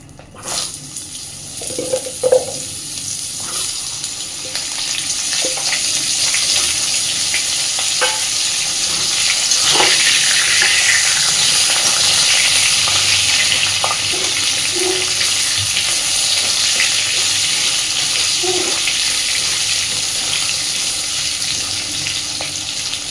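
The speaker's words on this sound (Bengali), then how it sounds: "ওই তেলের মধ্যে এবার আমি দিয়ে দিচ্ছি কেটে রাখা আলু। আলুগুলোকে খুব সুন্দর করে একটু লাল লাল করে ভেজে নেব।" Cut potatoes fry in hot oil with a loud, continuous sizzle that swells after a few early stirring clanks, then holds steady with occasional taps of a utensil.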